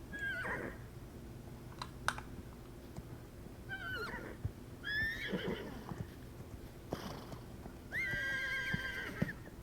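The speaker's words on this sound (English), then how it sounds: "I love all the horse sounds." Several horse neighs and whinnies in The Sims 4, rising at intervals over a steady low ambient bed, with soft hoof clops mixed in; the last whinny is long and loud.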